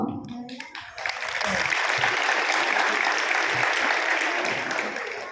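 Loud applause from an audience after a poem recitation breaks out and holds as dense, steady clapping, following a brief moment of speech at the start.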